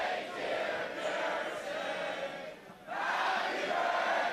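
Esports arena crowd at a League of Legends match cheers in a broad, sustained roar that dips briefly then swells back, distant and diffuse with no clear voices standing out.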